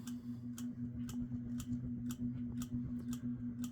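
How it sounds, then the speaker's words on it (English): A Key Largo 60-inch ceiling fan motor on medium speed hums with a steady low tonal drone, while faint ticks repeat about twice a second as the blades turn, with no speech. "Motor's making some funny sounding harmonics here on medium speed as well."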